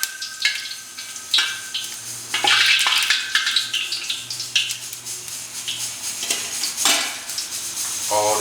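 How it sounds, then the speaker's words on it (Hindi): Shahi jeera and cinnamon sauté in a pot over a low flame for mutton biryani: a constant oily sizzle broken by repeated clinks and scrapes of a metal spoon stirring against the pot. "इसे 1 मिनट सौते करेंगे"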